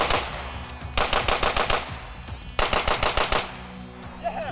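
Rapid handgun fire from a timed speed-shooting drill comes in two quick strings of close, sharp shots, each cut off by a brief pause for a reload.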